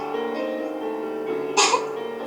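A single short cough breaks out over a steady sustained musical tone, brief and fairly close.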